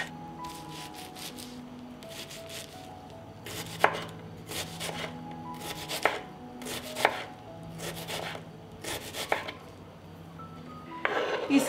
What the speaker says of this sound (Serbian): Iseckala sam crni i beli luk